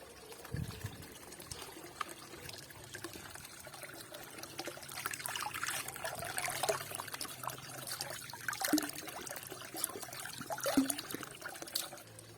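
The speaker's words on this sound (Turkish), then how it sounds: "bulduğumuz çeşmelerden susamamış olsak dahi şifa niyetine üç defa su içiyoruz" A public fountain trickles with a faint, uneven run of water, quiet splashing and dribbling that swells and fades a little, with soft handling noises and no speech.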